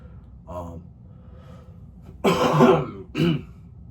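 A soft throat noise, then a harsh throat clearing followed by a short cough, close by and otherwise quiet.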